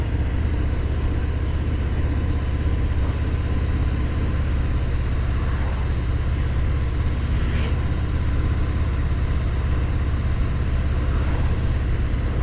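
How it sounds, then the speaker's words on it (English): Harley-Davidson Fat Bob 114 V-twin engine lugging at low revs in a high gear, a steady low rumble with continuous road and wind noise throughout, no talking. "Chuggy a bit there because I'm in a high gear"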